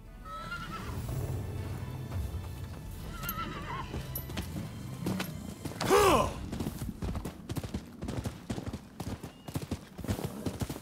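A horse neighs loudly in the Rise of the Ronin game, a rising whinny in the middle of the clip, with hoof clip-clops and other game sounds around it.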